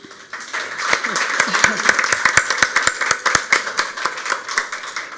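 Audience applause after a talk at an academic panel, a few seconds of sharp, fairly regular claps from a modest group, with no speech over it.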